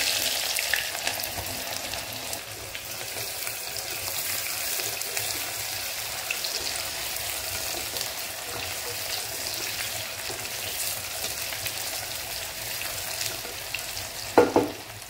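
Chopped onions fry in hot oil with garam masala and shahi jeera for a mutton dish, a loud continuous close sizzle with occasional stirring, ending in a brief clatter of a utensil.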